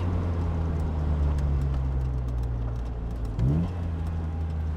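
An Evante, a small British sports car, drones steadily from inside the cabin, a low even hum with a brief shift in pitch near the end.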